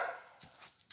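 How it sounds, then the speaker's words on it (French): Loose dogs bark outdoors, a couple of short barks at a distance, fairly faint. "il y a des chiens en liberté qui gueulent"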